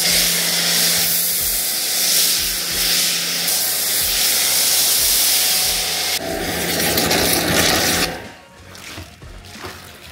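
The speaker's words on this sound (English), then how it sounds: "So, I'll foam this on, and we'll do a contact wash." A foam cannon sprays Envy Snow soap onto a car with a loud, steady pressurized hiss and rhythmic low thumps underneath, then it cuts off near the end into quieter dripping and faint background noise.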